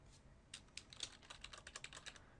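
Faint, quick keystrokes on a computer keyboard, a light irregular clatter of about a dozen taps, with no voice.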